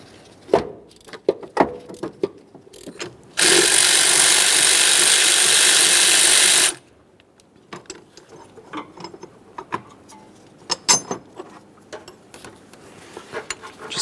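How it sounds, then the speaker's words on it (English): Ratchet with a 17 mm socket working a bolt on a 2007-2013 Acura MDX during timing belt and water pump replacement, close irregular metallic clicks and clanks, broken by a loud steady hiss lasting about three seconds. "For this bolt, we'll be using a 17 millimeter to remove this."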